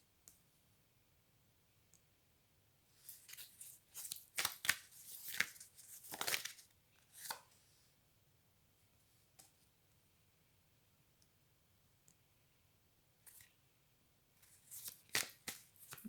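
Tarot cards are shuffled and drawn in soft, crisp bursts of riffling and snapping, separated by quiet pauses. The sound is close but faint, with no voices.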